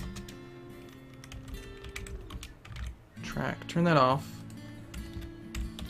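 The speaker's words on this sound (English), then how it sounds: "I'm going to use the keyboard" Computer keyboard keys clatter in quick, uneven bursts while someone talks through a Dwarf Fortress game, with clicks close and fairly quiet under the speech.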